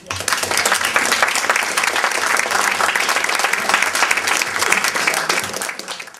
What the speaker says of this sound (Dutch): ik wil dan ook beginnen om een heel, heel warm applaus te vragen